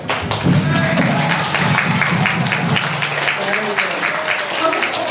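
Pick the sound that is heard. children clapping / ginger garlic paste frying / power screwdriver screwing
children clapping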